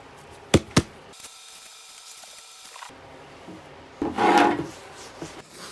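Plywood pieces are sanded by hand with a brief, rough rubbing scrape near the end, preceded by a couple of sharp wooden knocks, close and fairly quiet with no talking.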